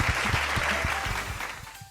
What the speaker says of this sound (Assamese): যোগাখিনিৰ কাৰণে এটা হাত চাপৰি।